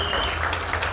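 Audience applause at the A3C 2012 hip-hop festival: a steady wash of clapping from a crowd filling the room, sustained and fairly loud.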